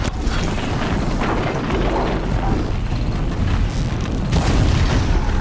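A robot creature explodes in Horizon Zero Dawn with a heavy, continuous rumbling boom and crackling debris, loud and close throughout.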